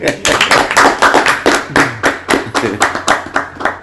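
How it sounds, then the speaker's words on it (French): At a church gathering, a congregation claps in a steady rhythm to praise the Lord, with sharp, close hand claps repeating in even beats throughout. "applaudissons pour le Seigneur"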